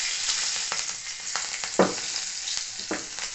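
Green chillies frying in hot oil in a pan, a continuous dense sizzle close up with intermittent spatula scrapes and stirring knocks, one stronger stroke partway through, no speech.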